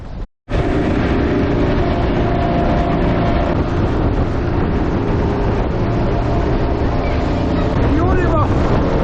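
A motorboat runs at full throttle among the Kornati islands, giving a loud, steady engine roar mixed with heavy wind buffeting on the microphone. The sound cuts out for a split second near the start.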